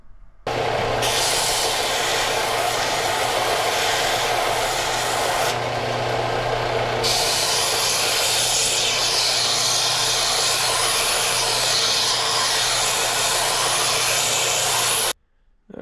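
An angle grinder bevels the edges of a steel axle from a Harbor Freight 1.5 ton jack, a loud continuous abrasive grinding close by that holds steady for about fifteen seconds, briefly changing pitch midway, then cuts off.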